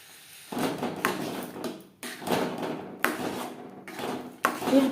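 A pot of thick rice paste with patali jaggery being stirred and mixed on a low-to-medium flame, giving a few scraping, knocking strokes against the pot, close and fairly loud, with no talk.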